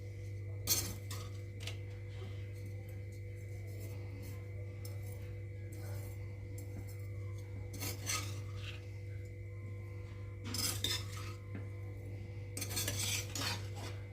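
Prawn pulao is mixed together in a pot with a spoon. Faint, scattered rasping scrapes come in short bursts, most often toward the end, over a steady low hum.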